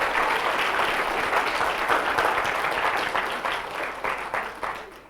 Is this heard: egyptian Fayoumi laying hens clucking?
no